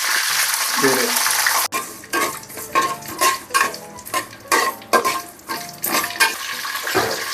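Curry leaves and green chilies hit hot oil with a loud sizzling burst, then fry on in steady crackling hiss broken by repeated spoon scrapes and clinks against the pan.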